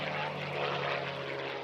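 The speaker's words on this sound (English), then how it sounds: "jet engines roared as top pilots in the country streaked across the skies of East Tennessee" Aircraft engines roar steadily and loud at the 2022 Smoky Mountain Air Show in East Tennessee, a broad sustained drone with a propeller-like hum rather than a clear jet whine.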